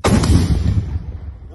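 A single loud, booming gunshot with a sharp onset, its deep rumble rolling off and fading over about a second.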